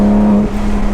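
A Porsche GT3 RS fitted with an MBRP exhaust downshifts, giving a loud, close engine drone whose steady tone breaks partway through as the gear changes and the revs shift.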